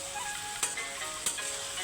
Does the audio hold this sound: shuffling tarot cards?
no